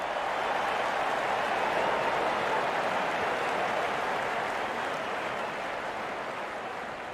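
A steady wash of crowd applause and cheering in a cricket video game during a Nepal versus England one-day international, even and moderately distant, holding throughout with a slight fade at the end.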